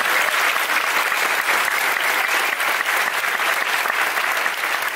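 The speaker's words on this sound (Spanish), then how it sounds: "Un fuerte aplauso, están ahí atrás." An audience in a seminar hall gives a loud, continuous round of applause, dense and even from start to finish with no talk standing out.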